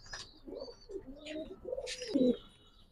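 Pigeons at a pigeon farm coo softly in short rolling phrases, several soft calls over a few seconds with faint chirps in between, close by and fairly quiet.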